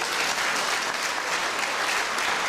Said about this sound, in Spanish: a quien pido fuertes y calurosos aplausos